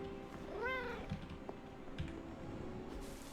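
A cat meows once with a rising and falling tone, clear and fairly close, over a low background rumble with a few soft clicks.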